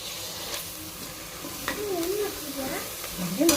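Chickpeas dropped into hot oil tempering with turmeric, giving a steady close sizzle with scraping stir sounds and a few louder crackles, no talking.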